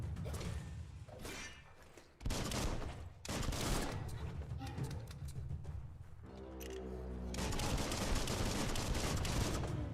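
Bursts of rapid gunfire and clanking weapon mechanisms in the action game Biomutant, loud and dense with short pauses between volleys, over a busy game soundtrack.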